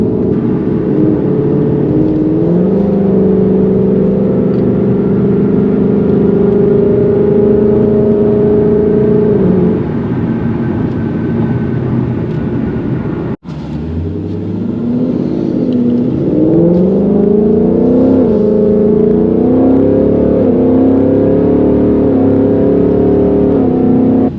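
A Mustang with a 10-speed automatic launches in a drag run, its engine droning and climbing in pitch through gear changes, then cutting abruptly before revving and rising again, loud and close throughout.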